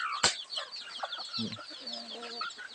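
A native chicken clucks and chatters in short, close bursts, with a sharp squawk at the start and steady clucking throughout.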